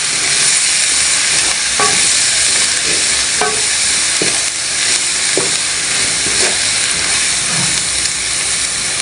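Chicken with chili powder being stirred in a hot pan, with a loud, constant hissing sizzle and repeated scraping strokes of a spoon at irregular intervals.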